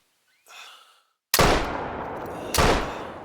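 Two loud, close rifle shots at buffalo in theHunter: Call of the Wild video game, each a sharp blast with a long echoing tail, following a soft breath.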